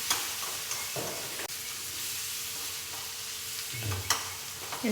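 Dried red chillies fry in hot oil in a pan, giving a soft, continuous sizzle with a few light stirring scrapes and clicks, heard fairly quietly and without any voices.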